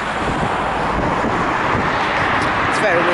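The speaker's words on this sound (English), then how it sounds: "very windy." Strong wind buffets an outdoor microphone near a bridge, a loud continuous roar with low rumbling gusts and no pauses.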